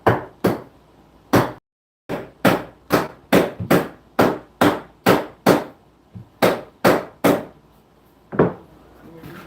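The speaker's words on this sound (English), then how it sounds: "Sledgehammer for sure." Sledgehammer strikes tapping on a floor during a renovation, a steady series of about fifteen sharp, loud, close impacts at roughly half-second to one-second intervals, with brief pauses between blows.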